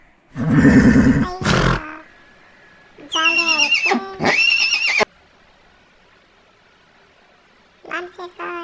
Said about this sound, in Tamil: குதிரை ரொம்ப ஃபாஸ்ட்டாக போகுது